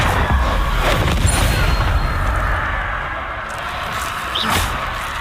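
A Confringo blasting spell explodes in Hogwarts Legacy with a loud booming crash and metallic clang, a dense close roar that lingers and fades slightly, with no speech.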